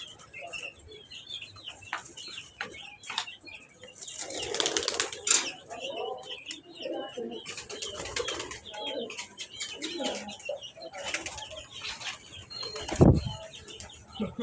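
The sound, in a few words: pigeons flying and flapping wings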